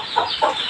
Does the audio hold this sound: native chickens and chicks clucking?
yes